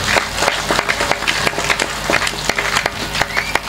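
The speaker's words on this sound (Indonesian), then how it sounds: "Tepuk tangan buat beliau." Applause from the audience at a majelis sholawat religious gathering, lively clapping mixed with music-like tones and scattered voices, moderately loud with irregular bursts.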